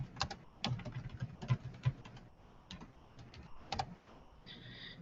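Keys tapped on a computer keyboard in quick irregular bursts, close and fairly quiet, with short pauses between clusters of clicks and no talking.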